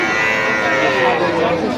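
Cattle at a bustling village livestock market, Sahiwal and local breed bulls, moo and low among the loud, dense crowd chatter of the market. Talk runs throughout.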